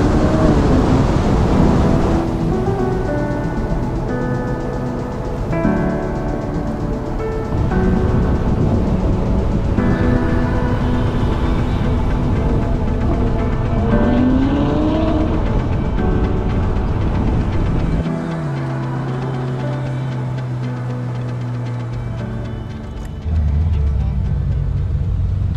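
A Ferrari driving down a narrow country lane in the Cotswolds, its engine a steady, close rumble with rising and falling revs and gear changes, running continuously with no voices.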